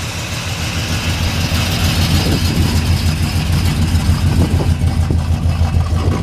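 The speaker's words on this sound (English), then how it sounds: "But it sounds good. Nice tuned exhaust." A 1966 Pontiac LeMans Sport Coupe with a tuned exhaust idles smoothly, a steady, close, low rumble that holds throughout without revving.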